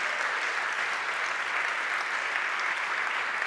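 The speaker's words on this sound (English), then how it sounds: "Could we just give a clap to the technicians?" An audience in a conference hall applauds technicians at a maritime event, with dense, steady clapping from many hands that carries on without a break.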